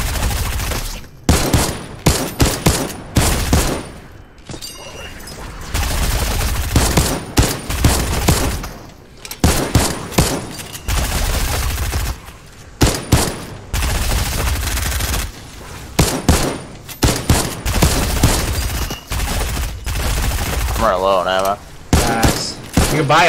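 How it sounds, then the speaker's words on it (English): Bursts of automatic gunfire from two weapons in a Fortnite zombies mode, loud rapid fusillades repeating in clusters with short gaps across the whole stretch, while players talk over the shooting. "Having both automatic weapons is so good."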